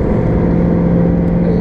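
A 2005 Ford GT engine revs during a test drive, a loud, sustained mechanical drone that stays strong and even through the short stretch with no voices over it.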